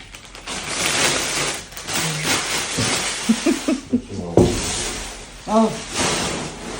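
A running conveyor clatters and rattles with ratcheting mechanical noise, heard under and between people talking nearby.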